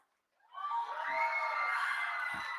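A school poetry recitation audience breaks into loud, sustained cheering and whooping after a brief silence, with high children's shouts holding steady to the end.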